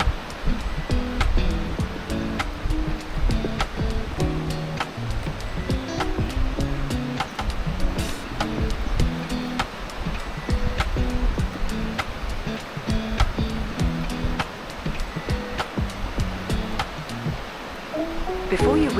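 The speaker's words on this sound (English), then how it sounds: "enjoying the good air, the sound of the river running" Water rushes steadily and loudly without pause from a river in Kiyotsu Gorge, Niigata, Japan, flowing close by, with occasional faint clicks on top.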